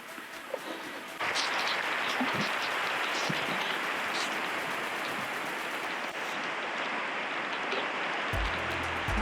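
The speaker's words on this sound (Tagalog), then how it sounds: "Umuulan na eh." Heavy rain pours steadily during an uphill bicycle climb at Fraser Hill, a dense, loud hiss of drops that swells after the first second and holds, with scattered louder drops and splashes.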